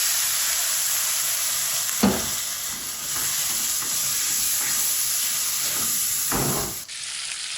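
Water is added to a turnip curry frying in a pan, producing a loud, steady hiss and sizzle with a few stirring scrapes, close up and with no talking.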